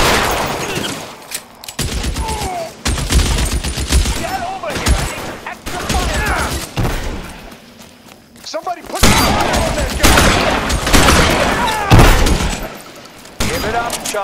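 Chaotic gunfight in the L.A. Noire video game, repeated loud gunshots and bursts of fire mixed with impacts and shouting voices, continuous and intense throughout.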